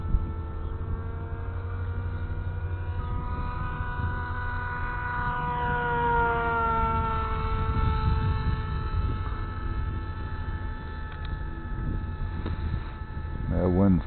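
An RC Bixler model airplane motor whines steadily at half throttle with an abnormal, out-of-line note, its tones sliding and wavering throughout, outdoors in stout wind.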